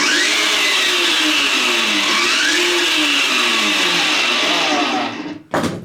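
A homemade electric dirt bike motor whirs loudly and steadily with its rear wheel lifted off the ground, its pitch rising and falling as it spins up, then cutting out abruptly near the end.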